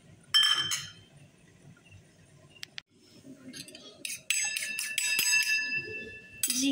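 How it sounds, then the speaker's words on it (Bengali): Eggs are beaten in a bowl with bright, rapid metallic clinking in two bursts, the second longer and busier, with quiet background noise between. "এটা ডিম ফেটবো।"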